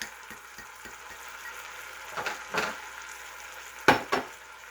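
Chopped onions from a jar go into a pan of browned, drained hamburger, giving a soft steady sizzle broken by a few scraping stirs and one sharp clatter of a utensil near the end.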